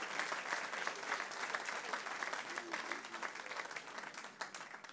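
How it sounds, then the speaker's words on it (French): A church congregation in Le Havre, France breaks into sustained applause, a dense, steady wash of clapping from many hands that holds evenly for the whole stretch without any speech. "Je peux applaudir le Seigneur pour ça."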